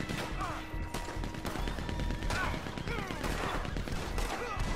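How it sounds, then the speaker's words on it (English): Gunfire in Red Dead Redemption 2 during a legendary bounty fight, dense overlapping shots and crashes in continuous loud volleys with game noise throughout. "Who's shooting me?"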